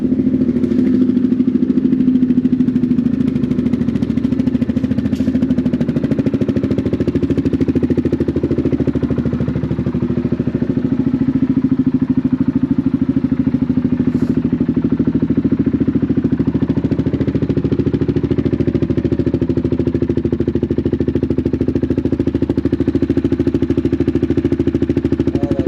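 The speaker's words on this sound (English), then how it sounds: "That's way louder than the stock exhaust." A 2016 Yamaha Grizzly 700 ATV fitted with an aftermarket exhaust idles loudly and steadily up close, a low, even, throbbing engine drone that holds unchanged throughout.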